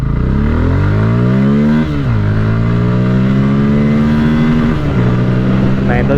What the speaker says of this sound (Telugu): ఓకే, మళ్ళీ లాంచ్ అయితే చేస్తాయి ఈ బైక్ని.